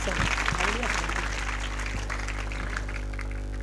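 An audience applauds the teachers of a Marathi village school at the closing ceremony of an education guidance camp, with dense, continuous clapping over a faint low hum.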